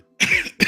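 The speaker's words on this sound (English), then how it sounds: "Man, this cough is crazy." A single harsh cough bursts out close to the mic, followed by a second short cough.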